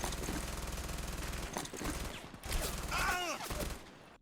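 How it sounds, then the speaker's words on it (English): Machine gun fire in a stop-motion battle against German troops: loud, rapid bursts of gunfire crackle and rattle in quick succession with a harsh, dense texture. "He is immediately shot by an MG and sparks off the conflict."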